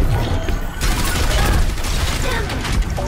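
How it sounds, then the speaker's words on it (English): Orisa's golden gun in Overwatch fires continuously at an enemy D.Va, a dense rapid stream of loud shots blending with busy battle noise throughout. "shooting down the enemy D.Va"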